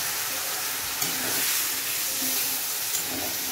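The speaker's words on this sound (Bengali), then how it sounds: "এবার একটু জল দিয়ে মশলাগুলোকে কষাবো।" Spices sizzle and hiss steadily in a pan after a splash of water is added, a continuous broadband frying sound with soft bubbling, close and even throughout, no voices.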